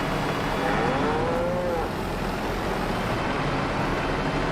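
Cattle moo in Farming Simulator 22, a drawn-out lowing call rising and falling over a steady engine and vehicle drone from the game.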